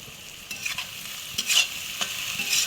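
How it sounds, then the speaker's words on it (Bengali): Onions fry lightly in a pan as a spoon stirs them, giving close bursts of scraping and sizzling at an uneven rhythm over a quiet, steady hiss, with no talking. "হালকা ভেজে নিচ্ছি"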